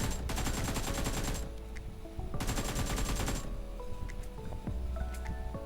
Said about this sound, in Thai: ฝึกยิงประมาณนี้ยิง เป้าเล่นๆไปครับ